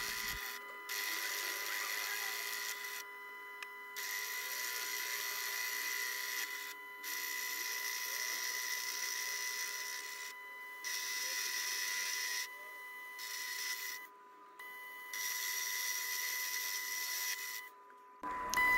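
A Proxxon PD250/E mini lathe turns rebar against a ceramic insert, giving a thin, steady high-pitched machining whine with several brief dropouts where the cut pauses, fairly faint and with no talking.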